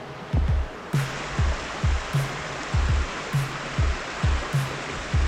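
A river flows with a steady broadband rush, while regular low thumps recur about every half second in the foreground.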